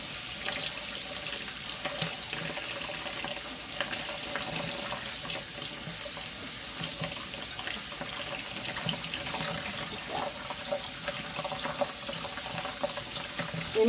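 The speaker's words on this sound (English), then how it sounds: "So I'm going to set off cold water." Cold water runs from a kitchen tap through a strainer of tomatoes being rinsed for salsa, a steady close hiss and splatter with no talk over it.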